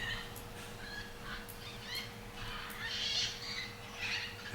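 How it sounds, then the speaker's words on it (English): A mixed flock of red-fronted, green-winged, scarlet and hyacinth macaws gives harsh, raucous squawks and calls in the wild. The calls are spread across the clip and ring out over a steady low hum. "A good group of red-fronted macaws, green wings, scarlets, 2 or 3 pair of hyacinths"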